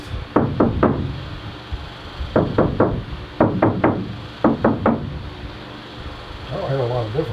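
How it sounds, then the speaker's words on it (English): Series of hollow knuckle raps on a Sprinter van panel treated with Dynamat sound deadener, struck in quick groups of three or four, close and fairly loud, with a brief voice near the end. "Alright, knock test."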